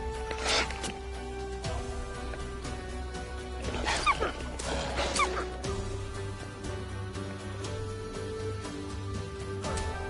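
Dog in the Medieval Dynasty video game, several sharp yips and barks in the middle over a steady ambient game hum and animal calls, with no speech.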